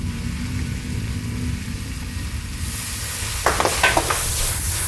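Snow peas stir-frying in a hot wok with light soy sauce, a low steady roar of the burner with a sizzle that grows brighter partway through and a few scraping clicks of the spatula near the end.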